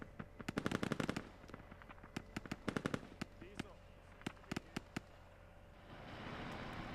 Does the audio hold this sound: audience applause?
no